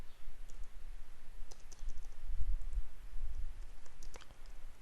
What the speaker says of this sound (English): So it's like I can right click